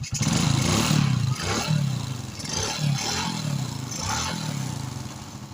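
A Suzuki Shogun 125 motorcycle engine runs close by after ignition pulser repair, steady and loud with a rough mechanical clatter and several throttle blips through the stretch, while people talk over it.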